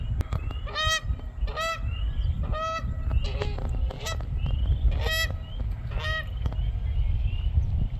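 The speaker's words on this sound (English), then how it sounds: "geese are going cray cray" Geese honk repeatedly in loud, spaced bursts of calls, close by on a wildlife trail ride with herons and beaver lodges nearby, over a steady low rumble of background noise.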